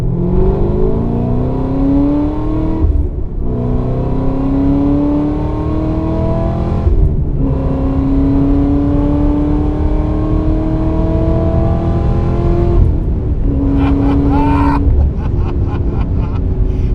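A modified 550 WHP Camaro ZL1 pulls hard through the gears, its loud engine note climbing steadily in pitch and dropping briefly at each upshift, close and continuous.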